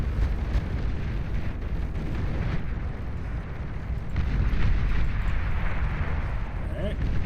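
A commander unit explodes in a real-time strategy game, a loud, dense rumbling blast sustained for several seconds with a talking voice over it.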